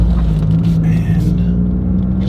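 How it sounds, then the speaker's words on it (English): Toyota GR Corolla fitted with an MBRP exhaust, heard from inside the car: a steady low exhaust rumble, with a faint, thin turbo whistle sitting above it. "You can hear the turbo, I can hear it just whistling a little bit too."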